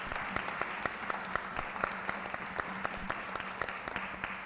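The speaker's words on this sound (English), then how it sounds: "a huge applause for all of the alumni coming back" Steady applause from an audience welcoming back returning alumni at a Catholic university symposium, dense clapping held at an even level for several seconds with no talk over it.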